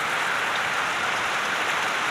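Heavy monsoon rain pours steadily in Konkan, a dense, even hiss of downpour on surfaces, close and continuous with no voices.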